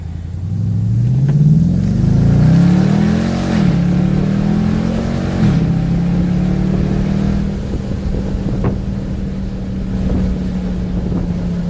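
A 2017 Dodge Charger RT with an aFe Silver Bullet exhaust accelerating on a drive, its engine note rising through gear changes with a deep, steady rumble, heard from inside over road and wind noise.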